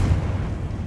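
The Confringo explosion spell in Hogwarts Legacy lands as a heavy, rumbling blast that stays loud and fills the whole second with dense low-end boom.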